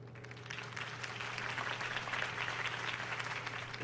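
Sustained crowd applause at a political campaign rally in Batman: The Telltale Series, dense steady clapping from a large audience under a low constant hum.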